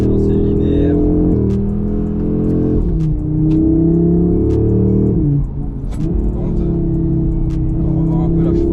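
Audi RS3 2022 in Miami blue under hard acceleration, its engine droning loud and close with rising pitch through several gear changes, a brief dip near the middle, and cabin noise throughout.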